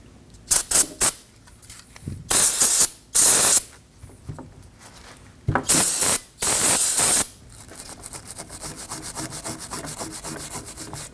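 Brake parts cleaner spraying onto the rear brake caliper bracket of a 2015-2024 Ford Edge, in several loud hissing bursts of one to two seconds each, then a steadier rough scrubbing.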